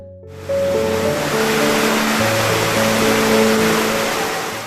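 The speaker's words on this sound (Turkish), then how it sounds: "Bu güzelliğin adına Katarahte ya da diğer adıyla Kataraltı Şelalesi diyorlar." Kataraltı waterfall in Güneysu, Rize, a loud, steady rushing roar of falling water with background music playing over it.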